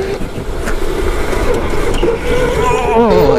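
A go-kart's engine drones steadily and close throughout a drift, with a rising whine near the end; no voices are heard.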